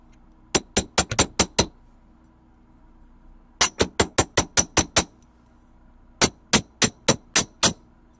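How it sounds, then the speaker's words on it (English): A chasing hammer strikes paperclip links laid on a steel block, sharp ringing metallic blows in three quick bursts of about five to seven evenly spaced hits, close and loud with short pauses between the groups. "I'm going to take each link, put it on my block, and hammer it flat."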